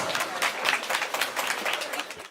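Applause from a crowd at a women's march late at night, a dense, steady wash of many hands clapping that holds for a couple of seconds before cutting off abruptly.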